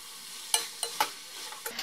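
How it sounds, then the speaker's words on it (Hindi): Boiled noodles are tossed with vegetables in a hot pan, a soft sizzle running beneath a handful of sharp, irregular clacks as the utensil strikes the pan. "अब इसमें नूडल्स डालेंगे जो हमने बॉईल करके रखे थे, साथ में मिक्स करते जाएंगे।"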